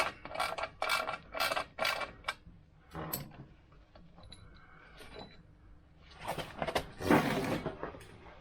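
A ratchet works a bolt loose on a Vespa GS 150 scooter, giving close, quiet series of rapid mechanical clicks in short bursts with pauses between, and no talking.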